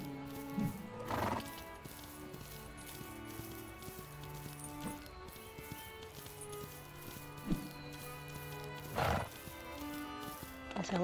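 Horses in a video game horse race on a ranch, with several loud whinnies and neighs over a steady clip-clop of hooves and soft game music.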